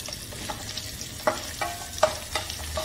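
Garlic and crushed green chili sauté in hot oil for Maharashtrian dahi kadhi, a soft steady sizzle broken by several scraping stirs of a spoon in the pan.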